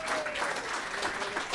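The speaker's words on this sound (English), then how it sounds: "So, Tony, big round of applause to you." Applause from a small group at a day care centre gathering, steady clapping filling the short stretch with a faint tonal whistle or voice line running underneath.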